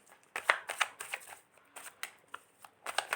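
Tarot cards being shuffled by hand, a rapid series of crisp papery riffles and flicks in irregular bursts, close and fairly quiet, with no talking.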